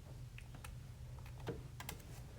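Numbers being keyed into a calculator for a law of sines problem, a quick irregular run of light plastic key clicks, close and fairly quiet, with no talking.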